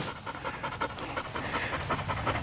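A high-drive hunting dog pants rapidly and steadily up close, a continuous rhythmic huffing with no talk over it.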